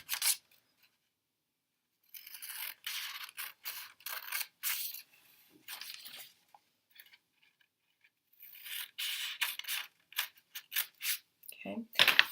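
Paper pieces cut with scissors along black lines while building a birdhouse, giving bursts of crisp snipping and rustling clustered into two runs separated by a quiet pause, close and fairly loud.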